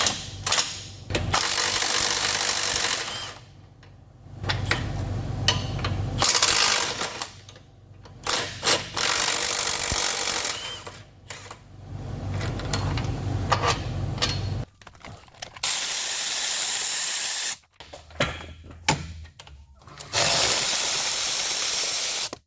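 Ratchet and mechanical clatter while loosening 18 mm rack bolts on a 2013 GMC Acadia, long bursts of busy clicking and grinding with short pauses, close and fairly loud, no talk.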